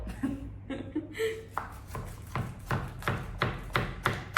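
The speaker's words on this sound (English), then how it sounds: "Look at how nice my boyfriend can cut this." A knife chops kale on a cutting board in a steady run of sharp, close strikes, with a few scattered softer knocks at the start before the rhythm settles.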